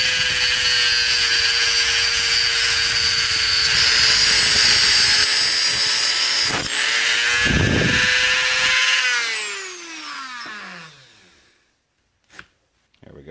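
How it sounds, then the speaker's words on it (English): A small Dremel tool with a cutoff wheel grinds through a bolt on a leaky Buick valve cover, a loud steady high-pitched whine that holds for about nine seconds, then spins down and falls silent, with a brief clatter near the end. "Is a little Dremel tool with the cutoff wheels"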